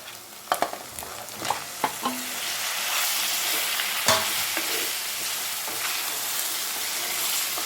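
Country chicken is added to hot oil with chili and turmeric powder and stirred for a Tamil asari varuval fry: a few sharp scraping stirs at first, then a loud, steady sizzle close by, with no voices.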